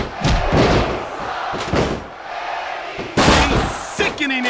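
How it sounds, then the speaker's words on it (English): Heavy steel chair strikes in WWE SmackDown vs Raw 2006 land as loud, sharp thuds amid a roaring arena crowd, with several impacts spread across the clip and a big crash near the end. "A sickening impact from that steel chair."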